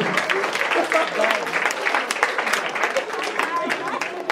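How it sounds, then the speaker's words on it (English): Audience clapping and cheering at a comedy hypnosis show at FDU-Teaneck, a lively crowd applauding steadily with mixed voices and loud chatter running through it. "Give them a round of applause,"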